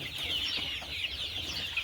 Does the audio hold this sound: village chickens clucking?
yes